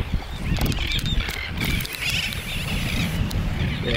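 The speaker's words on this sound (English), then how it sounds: "There's a lot of birds out there because this is a bird island" Seabirds call from a bird island cove on the Great Barrier Reef, a dense chorus of honking, squawking cries layered over wind and water noise, continuous and fairly loud throughout.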